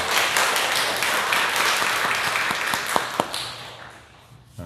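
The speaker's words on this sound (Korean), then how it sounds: "우리 하나님 아버지께 영광의 박수 한번 올려드리겠습니다." A church congregation gives a round of applause to God after a hymn, a full wash of clapping that tapers off into a few last scattered claps.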